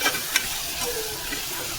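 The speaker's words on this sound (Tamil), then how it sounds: "போட்டு நல்லா வதக்கிக்கலாம்." Spices sizzle and crackle in a hot pan while being sautéed for chicken 65, a steady close frying hiss with a couple of stirring clicks, no voices.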